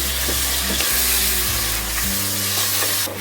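Ground paste of ginger, garlic and onion spits and fries in hot oil for a potato mushroom curry, a loud crackling sizzle with low stirring thumps, close by and free of speech.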